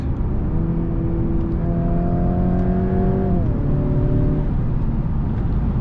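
A 2022 Mercedes C300 AMG C-Class accelerates hard, its engine drone climbing steadily in pitch, dropping briefly at a gear change, then pulling again, heard continuously from inside the car.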